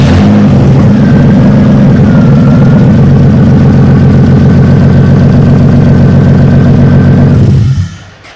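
A BMW E36 Compact engine runs steadily at a loud, close idle in a garage after an ECU swap, its low rumble holding even throughout before cutting off abruptly near the end.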